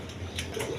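A pair of red Gola pigeons gives a brief, soft cooing call, faint and low, heard alone over a quiet background.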